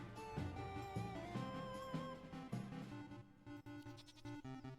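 A goat in a video game bleats repeatedly in loud, wavering cries, with a game soundtrack running underneath.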